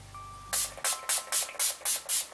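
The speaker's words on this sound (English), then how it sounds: "I'll go in and spray my face before I do my lips." A quick series of seven short, sharp sprays of Urban Decay All Nighter makeup setting spray misting a face, in steady rhythm, close and crisp, after a brief quiet start.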